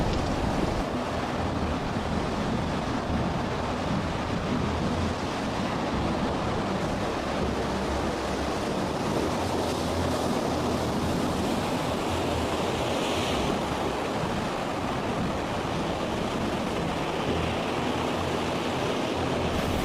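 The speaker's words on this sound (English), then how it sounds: "When the ocean is angry, the waves seem hell-bent on swallowing anything that dares appear on the surface." Storm-driven ocean waves crash and roar continuously at sea, a dense, loud wash of surf with heavy wind buffeting throughout, and no talking.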